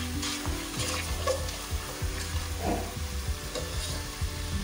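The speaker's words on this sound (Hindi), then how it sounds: "मसाले को हमने बहुत अच्छा सा भूनना चाहिए" Masala for a low-oil chickpea curry fries in a pan, a constant sizzle under repeated scraping and knocking stir strokes, close and continuous.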